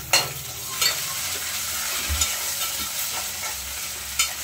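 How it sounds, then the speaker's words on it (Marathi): Tomatoes go into oil with frying garlic and onion for a bean, eggplant and potato curry, giving a continuous close sizzle broken by a few distinct stirring scrapes and knocks against the pan. "आता आपण लगेचच त्याच्यामध्ये टोमॅटो घालून घेऊया।"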